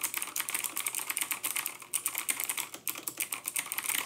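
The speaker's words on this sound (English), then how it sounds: "let's quickly just type on it and see how it feels" Rapid, steady typing on a cheap RGB mechanical keyboard, with crisp clacking keystrokes up close and no voices.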